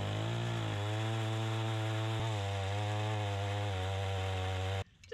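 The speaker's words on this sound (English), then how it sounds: "So let's cut it up with a chainsaw real quick." A chainsaw runs loud and close at a steady, high-revving drone for nearly five seconds, its pitch shifting slightly as it cuts, before stopping abruptly at the end.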